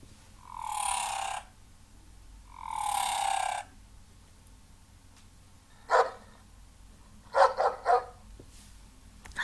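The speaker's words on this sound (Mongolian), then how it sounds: "Нохой ингэж дуурдаг байна." A dog barks alone: two long, drawn-out barks come first, then a pause, then a quick cluster of shorter, sharper barks near the end.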